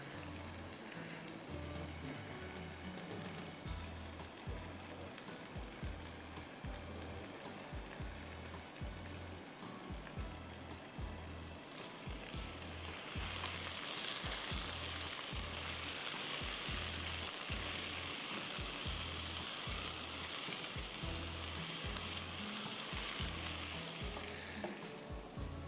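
A baghar tempering sizzles and crackles in a pot for bakla, a continuous close frying hiss that grows brighter and fuller halfway through, with occasional stirring.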